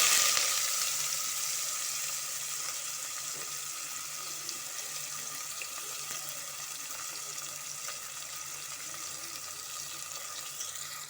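Large onions fry in hot oil with bay leaf, cinnamon, cardamom and cloves for mushroom biryani, giving a steady, moderately loud sizzle that eases slightly over the stretch, with no talking.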